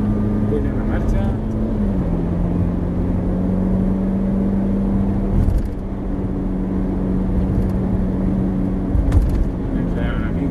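Ferrari engine droning steadily from inside the car as it pulls through the gears, with a sustained mid-pitched hum shifting tone, heard under ongoing conversation between occupants.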